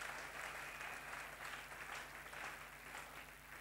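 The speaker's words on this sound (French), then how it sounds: "Acclamez pour Frère Branham" A church congregation applauds a sermon mention of Brother Branham with steady, distant clapping, faint and continuous throughout.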